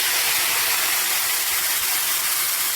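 Marinated chicken hits hot ghee with whole spices, giving a loud, even hissing sizzle that runs unbroken and close throughout, with no voices.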